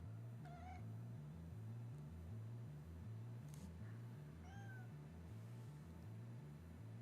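A cat meows several times close by indoors, short rising cries spread through the clip over a steady, pulsing low hum from background game music.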